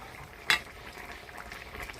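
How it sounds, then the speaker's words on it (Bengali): A Bengali bata fish curry broth with potato and cauliflower bubbles softly in a pot, with one brief splash as fried fish goes in, then a low, steady simmer. "ঝোল জাল হয়ে গেছে, এবার ভাজে রাখা মাছগুলা দিয়ে দেব"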